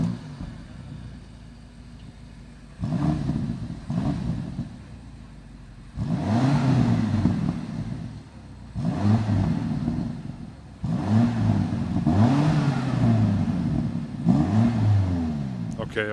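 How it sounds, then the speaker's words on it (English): A BMW X6M Competition SUV engine revs hard outdoors, heard from outside the vehicle: several loud rising and falling bursts with pauses of lower engine rumble between them. "So now it's time to listen to the sound of the BMW X6M competition from the outside."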